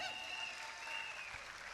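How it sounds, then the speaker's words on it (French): A business-training audience gives a brief burst of applause, a steady wash of clapping heard from some distance and fairly faint. "On peut applaudir Forever."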